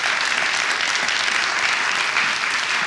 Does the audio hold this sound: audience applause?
yes